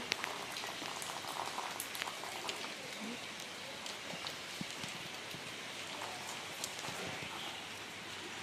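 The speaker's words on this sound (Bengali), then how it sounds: "ভালোই বৃষ্টি হচ্ছে" Steady rain falling on surfaces nearby, a dense continuous patter with scattered heavier drops, no voices.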